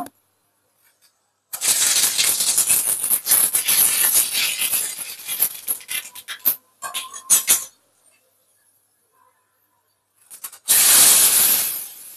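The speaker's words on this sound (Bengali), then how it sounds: "এবার ফোড়নটা দিয়ে দেব।" Dried red chillies and whole spices hit hot oil for a dal tempering, bursting into a loud crackling sizzle that tapers off with scattered pops, then a second strong hiss flares up near the end.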